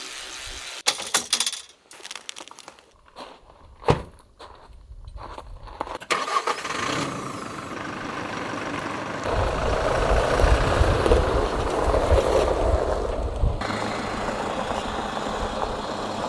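A car driving on a road near Windhoek, Namibia: scattered clunks and a rising engine start give way to a steady, loud rumble of engine and road noise, with a brief word spoken early on.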